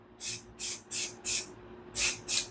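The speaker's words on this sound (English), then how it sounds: "I'm going to spray my white onto this" Six short hissing bursts from a can of white spray paint, evenly spaced with brief gaps, close and clear over a quiet background.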